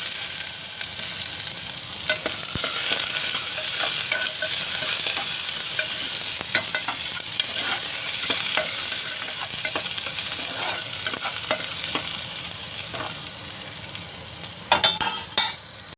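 Garlic sizzles in hot oil in a pan while a fish curry tempering is made, a loud steady frying hiss with scattered crackles and a few stirring scrapes near the end.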